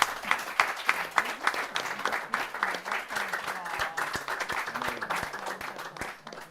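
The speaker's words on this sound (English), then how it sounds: "Big round of applause for them." An audience claps for a family called to the front at an event, with sharp individual claps over a crowd patter and voices talking through it.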